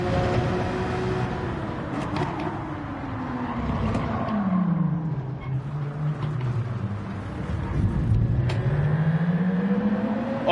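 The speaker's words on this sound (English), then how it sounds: "Now I hear a car right behind me" Race car engine in Gran Turismo 7 closing in from behind, a droning rumble whose pitch dips and rises as the cars shift and accelerate, loud and continuous with other engines mixed in.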